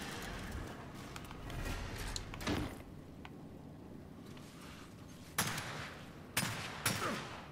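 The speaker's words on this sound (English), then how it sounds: "Trying to shoot him from far away with no scope." Gunfire in the video game Gears 5 during an Elite Horde mode match, with sustained rattling bursts under a busy game mix, then several sharp, louder shots near the end.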